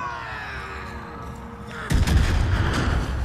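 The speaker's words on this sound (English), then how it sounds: "Let's do an extra big explosion." A huge in-game explosion in Far Cry 5 erupts suddenly after a quieter stretch of game sound, a loud, deep rumbling blast with crackling debris that lingers to the end.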